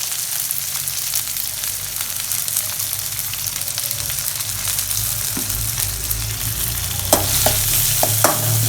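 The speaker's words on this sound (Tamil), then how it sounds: "நல்லா வணக்கிக்குவோம்." Onions and curry leaves frying in a pan for a snake gourd kootu, a loud continuous sizzle and crackle close by, with a few sharp spoon scrapes and clinks toward the end.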